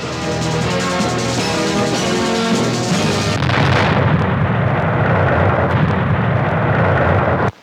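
Film music plays, then a heavy dynamite explosion cuts in and becomes a long, loud roaring rumble that continues for several seconds.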